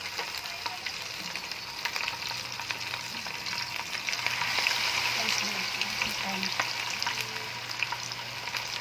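Pork chop frying in hot oil, a steady dense sizzle and crackle running throughout at moderate level with occasional small pops.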